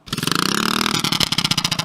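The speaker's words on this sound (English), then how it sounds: "We officially just blew up the engine." A go kart engine revs hard and close, its rapid pulsing buzz climbing and then breaking into rougher, uneven bursts as the engine fails.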